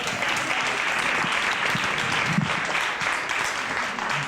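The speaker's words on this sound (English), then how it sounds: "Give him a round of applause" Steady, even applause from guests at a 50th birthday celebration, a dense wash of many hands clapping at moderate distance with no talking over it.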